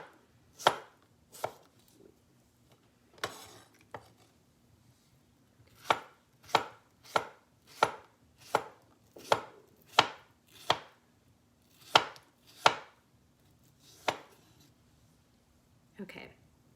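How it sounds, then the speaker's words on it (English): Knife chopping through food into thin slices on a cutting board for a poke bowl, a run of crisp, evenly spaced close-up chops with brief pauses between bursts. "Now what I like to do is just cut them in nice little thin slices"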